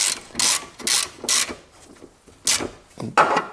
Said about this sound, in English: now when I firstly fasten this bolt